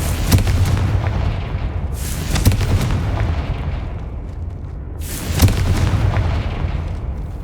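In Hogwarts Legacy, the Confringo blasting curse goes off as loud, deep booming explosions, two large blasts with rumbling tails and sharper cracks between them, no talk.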